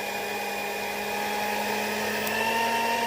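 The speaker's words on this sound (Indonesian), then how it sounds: "kita coba untuk tes mixernya ini" A Philips HR1552 hand mixer runs steadily and close by, giving a loud, even motor whine with a high-pitched electric hum that holds constant throughout, with no voices.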